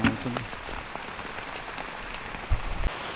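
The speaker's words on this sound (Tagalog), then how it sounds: "Grabe po ang ulan mga kautol." Heavy rain drumming on surfaces near eggplant and chili plants, a steady dense patter with scattered louder drops and a couple of sharper knocks near the end.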